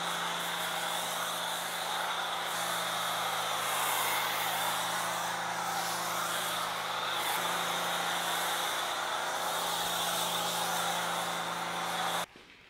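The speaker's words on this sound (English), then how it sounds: "I'm just going to use the power washer and the foamer to coat the entire bike" A power washer and foam cannon spray a motorcycle indoors in a studio, giving a loud, steady rushing hiss over a constant motor hum for about twelve seconds before cutting off abruptly.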